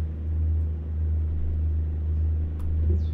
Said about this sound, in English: I find the engine sound decent, pretty decent from default